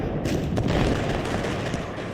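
Cannon and musket gunfire in the Ultimate General: Civil War video game, a dense continuous rumble of overlapping shots and booms with a few sharper cracks standing out.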